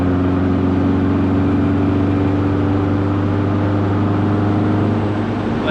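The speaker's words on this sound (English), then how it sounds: "Like you can accelerate" A fixed Volkswagen Beetle engine drones loud and steady, a constant close-up hum from its motor that holds an even pitch throughout.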